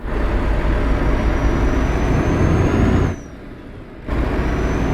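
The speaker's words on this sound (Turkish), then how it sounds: "Bu aracımızın klasik Renault kamyonun sesi." A Renault truck engine in Euro Truck Simulator 2 drones at a loud, steady pitch. It drops away for about a second and then comes back.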